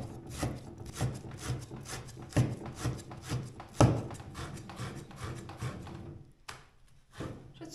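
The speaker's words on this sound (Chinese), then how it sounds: "桌子一切菜直响" A knife chops vegetables on a wooden kitchen table that rattles with each stroke, a quick run of close, dry knocks with brief pauses, fairly quiet and with no talking.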